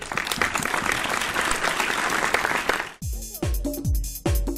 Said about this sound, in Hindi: आ जाइए जोरदार तालियों के बीच में